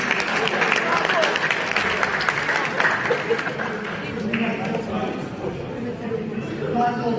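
Audience applause at a New Year gathering honouring a deputy district official, a dense sustained clapping from a crowd filling the room, with murmured voices mixed in and a speaker's voice emerging as it fades.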